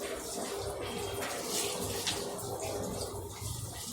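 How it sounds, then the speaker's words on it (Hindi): Tap water running at low flow over hair being washed at home, a continuous close splashing rush that stays steady throughout with no talk. "अब मैंने टैप वाटर खोल लिया है और डायरेक्ट उसके नीचे मैं अपने हेयर्स को धो रही हूँ।"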